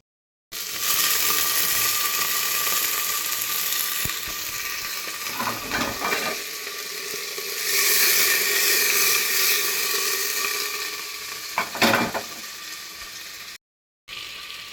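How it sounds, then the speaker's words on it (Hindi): Potatoes fry in hot oil with cumin, a continuous loud hiss and sizzle that swells and eases, with a few clatters of stirring, and no talking. "अब मैं इसमें आलू डाल लेती हूँ।"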